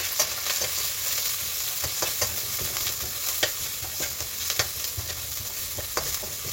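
Green chillies fry in a pan with a steady hiss and crackle, and sharp spatula scrapes and stirs recur at an irregular beat. The sound is close and continuous, and no one speaks.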